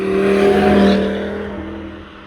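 Audi TT RS with an aftermarket IE downpipe exhaust revving loudly up close, engine note rising then easing off as the revs fall away.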